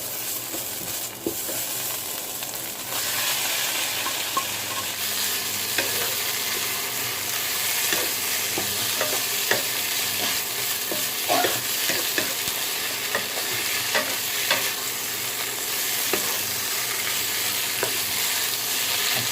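Free-range chicken being stir-fried in a pan for a Thai khua kling dish. A loud, continuous sizzle runs throughout, broken by occasional scraping and tapping of the spatula as the meat is stirred.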